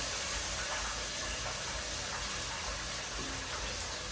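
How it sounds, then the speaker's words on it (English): Water pours steadily into a cooking pot while making a Nile perch stew with tomatoes and a beef stock cube, a continuous close rushing hiss with no talk. "Add some water."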